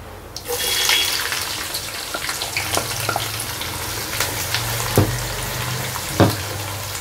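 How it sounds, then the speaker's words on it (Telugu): Onions added to hot oil for a mutton curry, a continuous crackling sizzle that flares up at the start and stays steady, with a couple of sharp clinks of a utensil against the pan. "ఆనియన్స్ బాగా ఫ్రై కావాలి, బ్రౌన్ కలర్ వచ్చే వరకు"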